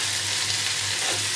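Spinach leaves sizzle and hiss steadily in a hot pan while being sautéed for a chicken dish in green gravy. The frying is close and loud, with no talking.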